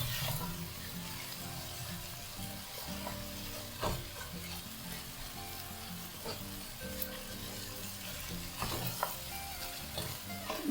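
Fish pieces being stirred into biriyani masala in a pan, with a steady close sizzle under repeated scraping and stirring strokes and no talking, for a Malabar king fish biriyani.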